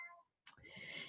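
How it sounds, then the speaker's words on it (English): A pet cat meows indoors, a short faint tonal cry followed by a longer rising, strained call, heard in the background of a quiet recording. "If you can hear that, that is my cat."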